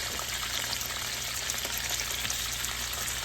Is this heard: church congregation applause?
no